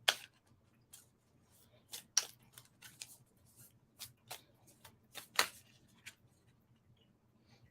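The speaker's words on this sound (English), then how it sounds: "as I was shuffling here, the Three of Swords came flying out" Tarot cards being shuffled: soft, crisp card riffles and flicks in irregular bursts, each one brief and close, with quiet gaps between them.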